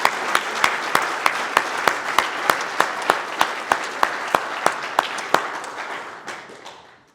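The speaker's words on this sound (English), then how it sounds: "Let's give those guys a round of applause." A Veterans Day gathering of a Rotary Club applauds its color guard, with one close, sharp clapper beating a steady rhythm over a broad crowd wash that fades away at the end.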